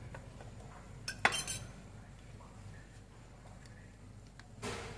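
Matcha milk jelly is turned out onto a plate with a few sharp clinks of utensils and dishware, one bright clatter near the start and a softer scrape at the end.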